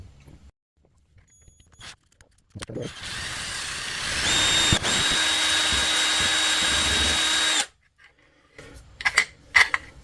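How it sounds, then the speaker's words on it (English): A power drill whirs steadily for about five seconds, drilling out screw holes in a plastic water pistol, close and loud, bracketed by quiet handling clicks and knocks before and after. "I'm actually going to drill these out and put real screws in there"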